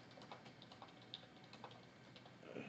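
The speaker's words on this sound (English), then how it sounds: "Here I'm typing what I'm saying." Faint, rapid keyboard typing with irregular clicks and taps spread through the clip, quiet and close, with no voices.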